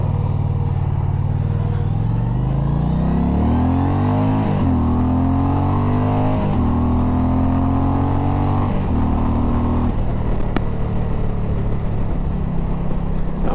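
A motorcycle engine revs repeatedly, climbing in pitch, dropping back and climbing again in several loud close pulls, then settling into a rough idle, with no talk.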